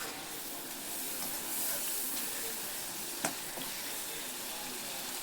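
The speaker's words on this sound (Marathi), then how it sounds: "मसाल्याला तेल सुटेपर्यंत भाजायचे आहे व्यवस्थित." Masala fries in oil for chole on a traditional earthen chulha, making a steady, close, hissing sizzle throughout, with one sharp pop near the middle and no talk.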